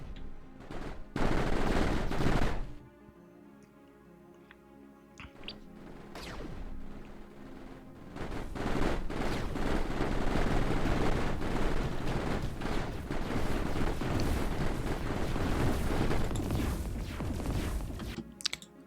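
Salvo turrets in the Mindustry game fire rapid volleys against an extreme enemy base, with dense bursts of gunfire-like shots in sustained loud stretches broken by a brief quieter lull.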